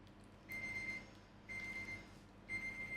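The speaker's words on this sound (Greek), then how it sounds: "το ξυπνητήρι μου, ήρθε η ώρα να μας πούτσω" An alarm clock beeps in three evenly spaced bursts about a second apart, a steady high electronic tone over a faint low kitchen background.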